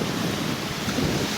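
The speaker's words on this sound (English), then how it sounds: "the waves would definitely wet these rocks way more often" Waves wash over flat rocks along a Lake Erie shoreline near Port Clinton, Ohio, a steady rushing surge blended with buffeting wind noise on the microphone, loud and close.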